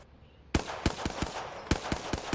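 Hemlok rifle fired in single shots in a video game, with a run of sharp, loud, punchy reports in an uneven rhythm, about eight in two seconds, standing alone with no talk.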